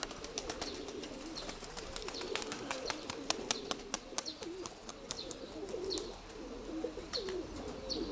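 Racing pigeons coo softly and steadily nearby, joined by scattered sharp clicks and faint chirps.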